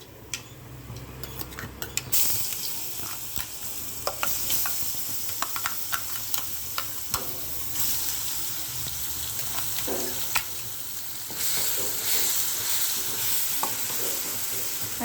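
Ground onion and chili paste sizzles in a pan of oil with popped mustard seeds and is stirred often. Scattered spoon clicks and scrapes sit over a steady frying hiss, close and alone.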